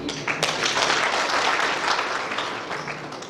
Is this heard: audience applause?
yes